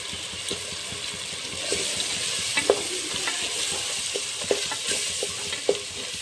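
Chicken masala with red chili powder frying in a pan: a continuous hissing sizzle, broken by the scrape and clack of a spatula stirring every second or so.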